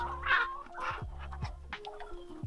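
Chickens clucking inside a chicken coop on a homestead, several short close calls and murmurs overlapping at a moderate level, with no talk.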